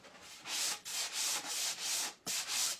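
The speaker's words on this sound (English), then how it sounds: "And I'm just sanding to get the nice smooth area" Hand sanding smooths the wooden surface of a dog warning sign with five or six rhythmic back-and-forth rasping strokes, close and even, each stroke separated by a brief pause.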